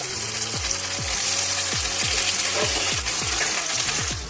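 Chicken frying in a pan with a steady, loud, close sizzle, punctuated by a series of short falling chirps and clinks as pieces are moved, continuous throughout with no talk.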